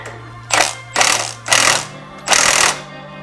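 Ratchet tightening bolts on the lift shocks of a Brute Force ATV during a Highlifter lift install, heard as four close, loud buzzing bursts of rapid clicking, each about a third of a second, separated by short pauses.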